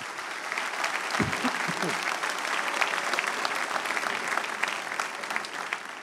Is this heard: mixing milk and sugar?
no